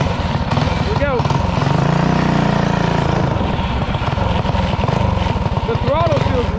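A motorcycle engine fitted with a new 22mm Mikuni carburetor runs close and loud with a steady chugging throttle, and a voice is briefly heard over it.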